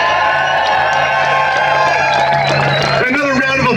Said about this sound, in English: Give it a round of applause for the organizers who put this together.